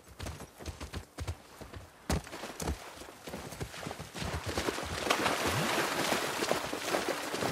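Horse hooves clip-clop in a steady walking rhythm in the video game The Last of Us Part II, nearby and moderately loud, with a growing wash of background noise toward the end.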